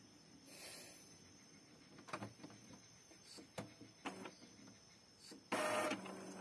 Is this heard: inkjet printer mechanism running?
yes